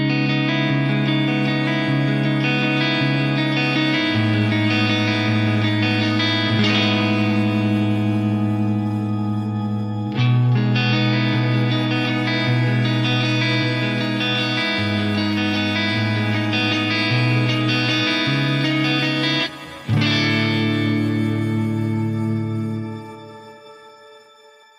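Sustained synth-like chords drenched in a bright shimmer reverb, long shimmering tails stacking octave-up harmonics over changing low notes, with sharp transitions between sections and a gradual decay at the end.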